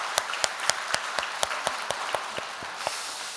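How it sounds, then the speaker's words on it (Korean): Church congregation at Ulsan Daeam Church giving a round of blessing applause, rhythmic unison clapping in a steady beat of about a dozen sharp claps, fading slightly toward the end with no voices. "우리 축복의 박수 한번 하도록 하겠습니다."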